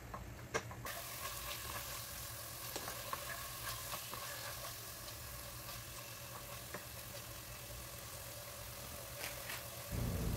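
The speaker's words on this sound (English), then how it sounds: "I'm adding 3 tablespoons of oil to stir fry the chicken." Chicken stir-frying in oil in a pan, a faint steady sizzle with occasional scrapes and clicks from stirring, ending in a louder low rumble.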